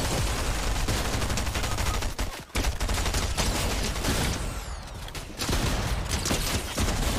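Rapid gunfire in a video game, dense bursts of shots filling the clip, loud and close, with a brief gap near the middle before the firing resumes.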